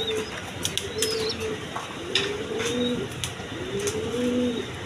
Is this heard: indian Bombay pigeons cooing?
yes